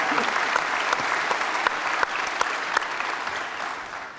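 A large audience at the Boston Convention Center grand opening celebration claps in a sustained, dense round of applause that stays full and even throughout, heard from within the hall.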